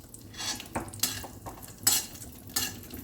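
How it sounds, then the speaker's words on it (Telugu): Raisins fry slowly in ghee in a pan for rice payasam, with a faint sizzle under scraping and clinking strokes of a stirring spoon, close and without talk. "దీన్ని కూడా చక్కగా స్లోలో పెట్టి ఫ్రై చేసుకోవాలి."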